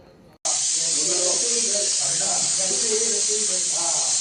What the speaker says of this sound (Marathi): कुकरच्या 2 शिट्या झाल्या म्हणजे मटण नक्की शिजलं असेल